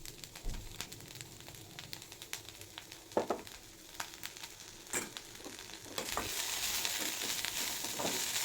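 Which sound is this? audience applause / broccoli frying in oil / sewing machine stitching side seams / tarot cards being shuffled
broccoli frying in oil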